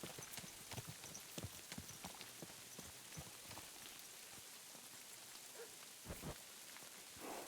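Horse hooves clip-clopping in the video game Kingdom Come Deliverance 2, quiet irregular hoof clops over a soft rain-like background hiss, with a few sharper knocks near the end.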